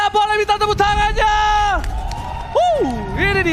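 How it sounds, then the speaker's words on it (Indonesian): A crowd at MPL Arena cheers at the opening match of an MPL Indonesia esports season, with loud overlapping whoops and shouted voices over a constant roar of the hall. "boleh minta tepuk tangannya"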